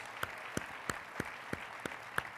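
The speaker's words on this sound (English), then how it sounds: "I'd like to give you a round of applause for all that you do for us" A faint, evenly spaced run of single hand claps, about three per second, sounds in a quiet room after a call for a round of applause at a women-in-leadership event.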